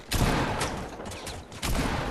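Video game gunfire strikes the player in dense, continuous bursts, loud and close, with a few sharper volleys standing out from the rapid fusillade.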